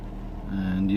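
The M111 engine of a Mercedes W124 E220 idles just after an oil and filter change, a steady low drone that swells slightly as the revs shift, with a voice speaking over it.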